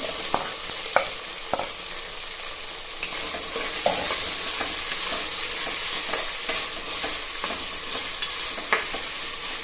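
Tomatoes with a pinch of salt fry in a pan for South Indian bisi bele bath, giving a loud, continuous sizzle broken by sharp spoon scrapes and knocks against the pan, close up with no voices.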